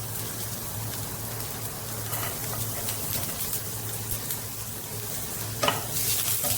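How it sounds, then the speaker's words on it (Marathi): Finely chopped garlic sizzles steadily in a spoonful of oil in a pan over a low flame, a continuous close hiss with occasional stirring scrapes and a brief louder crackle near the end. "आता याच पॅनमध्ये एक चमचा तेल घालूया इथे दहा ते बारा लसूण घेतलेले आहेत एकदम बारीक कट केलेले आहेत"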